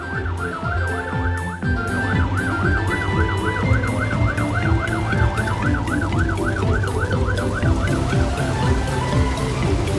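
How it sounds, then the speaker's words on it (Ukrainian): A fire engine siren wails in a rapid, repeating up-and-down pattern, loud and close, over a rumbling engine and background traffic. "Поступіться дорогою. Їде пожежна машина."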